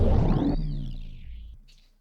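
A dense synth sound through Lunacy Audio Volt distortion, its feedback automated by an XY pad, gives sweeping, swooping feedback tones that decay steadily over about two seconds, ending in a faint hiss.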